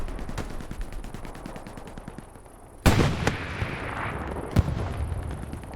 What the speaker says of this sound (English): Franco with rockets going off onto the light tank